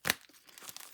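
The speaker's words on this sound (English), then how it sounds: "Let's just shuffle the vermin deck. And let's draw one from the middle." A card drawn from the vermin deck in a tabletop dungeon game gives a short, sharp papery snap and crinkle at the start, then fades to faint rustling handling noises.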